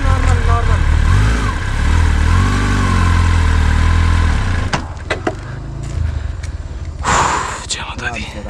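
A Kawasaki ZX-10R engine runs with a steady, deep rumble for about four and a half seconds, then drops away, with people talking over and after it.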